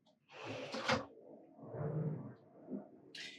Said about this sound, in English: now the top drawer slides really nicely